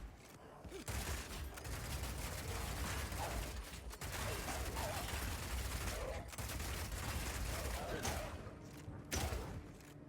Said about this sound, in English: Rapid shot is great for closing on enemies because you can shoot while running